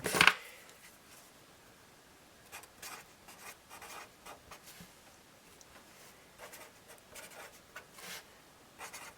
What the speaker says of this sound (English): See if this will write on here.